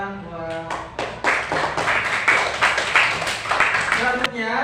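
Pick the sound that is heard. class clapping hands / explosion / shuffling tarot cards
class clapping hands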